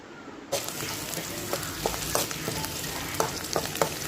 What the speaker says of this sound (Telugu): ఉల్లిపాయలు ఫ్రై అవుతున్నాయి, బాగా ఫ్రై అయ్యాయండి.